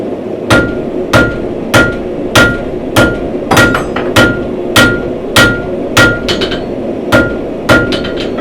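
Steady, evenly spaced hammer blows ring out on hot steel while a bottle opener is forged, about a dozen sharp metallic strikes close up with slight bounces between them, no talking.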